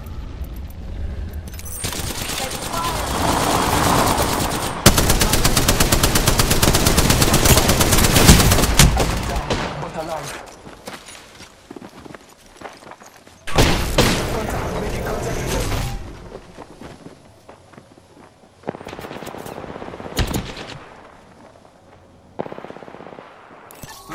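Gunfire in the video game Apex Legends, loud sustained automatic bursts and rapid shots in several long stretches separated by short gaps, with a voice talking over parts of it.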